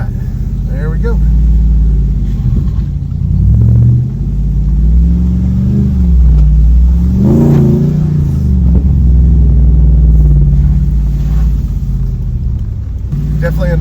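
A vehicle's engine rumbles and revs steadily while it drives off-road through trees on the Georgia Traverse, with the sound swelling and easing as it climbs.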